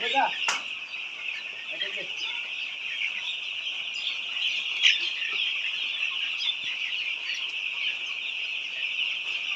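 White layer hens cluck sporadically on a poultry farm, the calls close and moderately loud over a steady, high-pitched background hiss.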